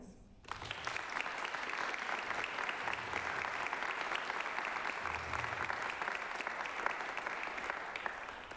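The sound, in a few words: audience applause for graduating scholarship students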